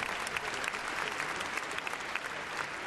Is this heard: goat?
no